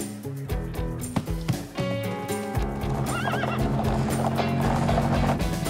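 A horse in a horse trailer whinnies and shifts, with hoof clomps and thuds against the trailer, then a drawn-out neigh rising over a steady engine-like drone.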